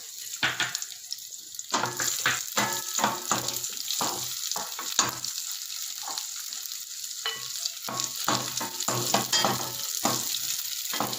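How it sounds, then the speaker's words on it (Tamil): Raisins fry in hot ghee in a pan for a sweet bread halwa, giving a steady crackling sizzle with repeated stirring scrapes, close and fairly loud, with no talking. "அதே நெய்லேயே திராட்சையும் ஃப்ரை பண்ணி எடுத்துக்கலாம்."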